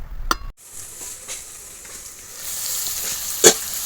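Chicken cooks in a kadai on a stove with a continuous soft sizzle, broken by a couple of sharp metallic clinks of a utensil against the pan.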